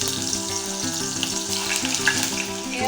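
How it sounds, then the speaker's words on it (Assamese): Raw banana pieces sizzle and crackle loudly in hot oil, a dense continuous frying hiss. Clinks and stirring scrapes run through it, with no voices. "এতিয়া আমি কাচকলখিনি প্ৰথমে ভাজি ল'ম।"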